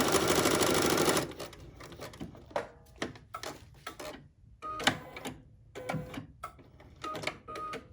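Sewing machine stitching a single-stitch cross on a quilted notepad holder, a brief whirring run followed by a series of separate clicking stitches with short pauses between them, close by.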